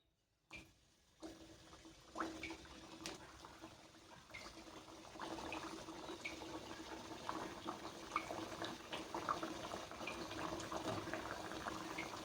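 Wheat flour and jaggery biscuits dropped one by one into hot oil over a low gas flame, setting off a steady, close sizzle and bubbling that builds after a few soft plops and clinks.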